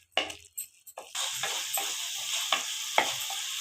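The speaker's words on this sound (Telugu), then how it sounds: "దాన్ని పచ్చివాసన పోయేంత వరకు వేపుకోవాలి" Raw tomato paste frying in a pan for egg curry, a few sharp utensil knocks at the start giving way to a continuous close sizzle with occasional scraping taps.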